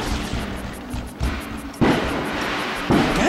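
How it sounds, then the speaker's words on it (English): Booming fireworks go off in a Super Mario Sunshine game scene, several deep blasts and crackles in quick succession over a rumbling background. "Yeah, there's some loud-ass fireworks."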